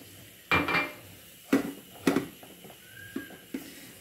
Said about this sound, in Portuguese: Eu vou colocar aqui, ó, tem 3 colheres aqui de farinha de trigo.